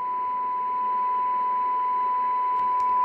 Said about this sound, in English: Sorry for the beep,